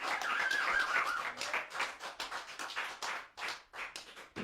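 Applause for a keyboard player at a live concert in a cellar venue, a steady patter of clapping that thins unevenly over a few seconds, with a brief tonal whistle early on.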